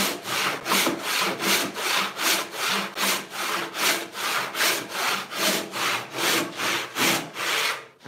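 A hand saw resaws an 8-inch-wide walnut board in steady back-and-forth strokes, about two per second, each a bright rasping stroke, close and loud with no voices.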